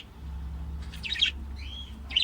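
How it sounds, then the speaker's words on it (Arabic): Small pet birds kept in cages at home, including a green budgerigar, give a few short, bright chirps in separate bursts over a low steady hum of the room. "ولدي هذا الطائر الأخضر العادي"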